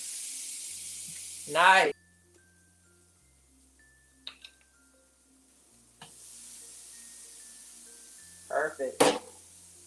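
Vegan plant-based burger patties sizzling in a pan, a soft steady hiss that comes and goes, with a person briefly speaking between the quieter stretches.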